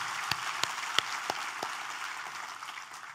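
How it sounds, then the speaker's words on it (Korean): A church congregation claps in praise during a Korean worship service, a soft, fairly distant patter of many hands with a few sharper individual claps standing out early, fading gradually. "우리 하나님께 감사와 영광의 박수를 드리겠습니다."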